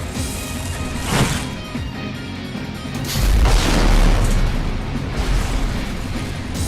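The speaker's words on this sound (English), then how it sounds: "Square Enix got some real good vibration on the explosions." Deep booming explosions from the video game Final Fantasy 7 Remake, a few heavy rumbling blasts with strong low-end vibration, loud and close, layered over other game effects and no speech.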